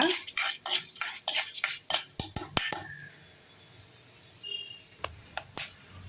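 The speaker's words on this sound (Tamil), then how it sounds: "கொள்ளு வந்து நல்லா வறுப்படணுங்க" Horse gram dry-roasts in a pan while a spoon stirs it in quick rhythmic scrapes, about a dozen rattling strokes in a row, then it goes quiet except for a few light taps.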